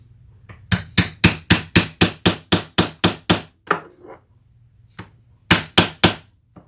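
A rivet is hammered through layers of sewn fabric in a loud, rapid run of about a dozen sharp metallic strikes. After a short pause, three more blows follow, close and without talk.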